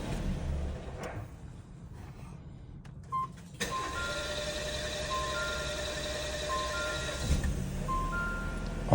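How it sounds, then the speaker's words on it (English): A 2020 Jeep Compass FWD with a crankshaft position sensor fault cranks for a few seconds with a whirring starter, then the engine catches at once. It settles into a steady idle hum with a whine above it, close and without talk. "Crank it. You see that? Takes about 5 to 10 seconds to start."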